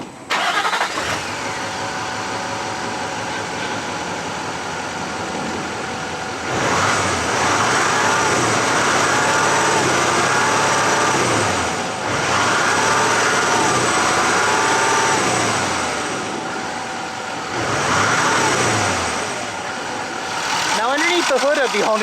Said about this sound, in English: it definitely confuses me because the sound is pure Dodge. It's a Cummins 5-liter V8.